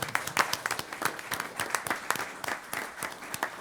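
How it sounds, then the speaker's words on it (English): A round of applause at an ODOT commission meeting, with many separate claps from a modest crowd at fairly low level, steady and unbroken throughout with no speech. "I mean, a round of applause to ODOT."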